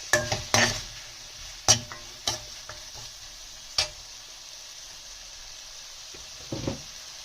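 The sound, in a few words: tomatoes cooking in pan for mixed veg handi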